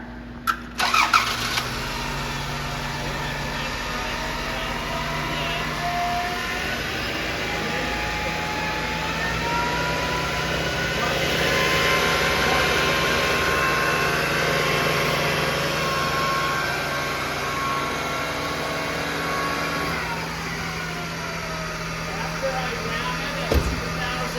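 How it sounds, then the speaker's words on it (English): A car engine cranks and catches, then settles into a steady mid-pitched idle that holds close and even for over twenty seconds, with a slight rise as it is brought up toward higher revs during a charging system test. "So I'm going to start the car."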